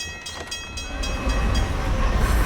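A train rumbles past in the spy game Alpha Protocol, its low heavy roar building and swelling to fill the scene, loud and close.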